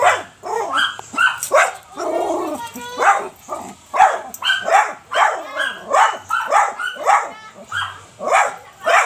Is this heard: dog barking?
yes